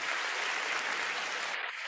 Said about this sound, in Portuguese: E em seu nome faça uma oferta de palmas a Jesus por esse Deus maravilhoso.